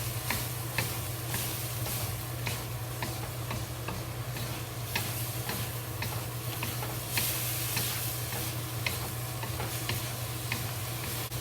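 Thinly sliced pork with a pinch of chicken-flavoured seasoning sizzles steadily in a pan, a constant frying hiss broken by regular clicks of a utensil stirring, close and continuous throughout.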